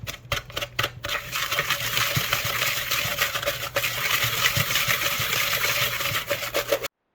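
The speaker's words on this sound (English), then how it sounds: "You want to take your whisk in your bowl and make sure you mix it all up" A whisk stirs salt, sugar and curing salt in a bowl with a fast, continuous scraping and clicking, loud and close, following a few sharp taps at the start.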